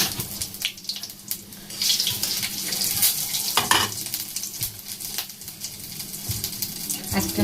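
Cumin seeds, a dried red chili and bay leaves crackle and sizzle in a pan, a steady, fairly loud hiss with sharper pops and bursts scattered throughout.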